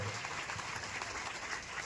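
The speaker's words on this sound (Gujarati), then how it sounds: "ફરીવાર એકવાર રાઠોડ પરિવારના આયોજનને જોરદાર તાળીઓને ગડગડાટ વચ્ચે બતાવો" Audience applause at a Rathod family get-together in Surat, a steady wash of clapping from a crowd, continuous and fairly even throughout.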